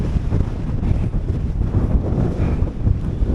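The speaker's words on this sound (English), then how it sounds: "the wind is starting to pick up" Steady wind buffets the microphone on an exposed Lake District fell top near Grey Crag and Alcock Tarn, a continuous low rumbling roar that rises and falls slightly and carries no speech.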